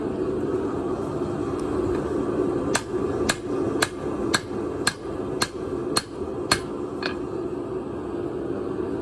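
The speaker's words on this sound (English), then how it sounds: "I want to hammer this down to, you know, much thinner, so I'm going to work both edges." A steel billhook trench sword blade has its edges hammered down, with about nine sharp, evenly spaced metal strikes ringing out close and clear over a low background hum.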